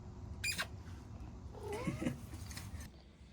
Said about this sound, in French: Trop mignon ce chat.